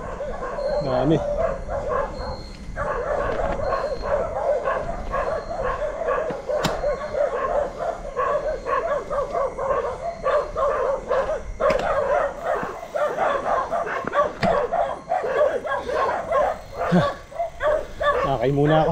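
Many dogs bark repeatedly along Asin Road toward Baguio. The barks are close and overlap, running steadily and loudly through the whole stretch, with people's voices mixed in.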